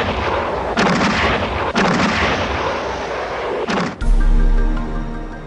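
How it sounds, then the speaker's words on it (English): Warships open a heavy naval bombardment, with several loud booming blasts in quick succession followed by a rolling rumble, close and dense, with no voices. "After fierce bombardment from warships"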